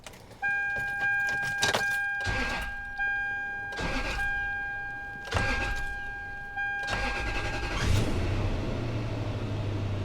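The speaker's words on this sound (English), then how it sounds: "we're going to start the engine to get the last little bit of air out of the system" A Toyota car engine cranks and starts during coolant bleeding, with the turn-over and catch surging into a steady idle, set among several short bursts and a steady chime-like tone.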